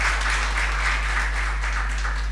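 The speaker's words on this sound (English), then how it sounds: "I request everybody for a big round of applause for all our special guests and dignitaries" Audience clapping for special guests and dignitaries at a sensitization training on preventing sexual harassment, a steady, even wash of applause from a seated crowd over a low electrical hum.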